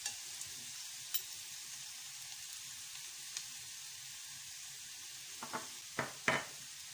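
Button mushrooms frying in a pan give a faint, soft sizzle, broken by a few light clicks and utensil taps that grow more frequent near the end.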